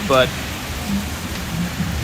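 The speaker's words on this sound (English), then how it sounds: "Someone says it wasn't even supposed to rain tonight." Rain falling at night on South Beach in Miami makes a steady, close hiss across the whole clip, with people talking over it.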